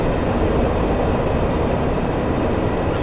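An aircraft taxis in the DCS flight simulator game, its engine a loud, continuous rumble and whine that holds steady throughout with no other sounds.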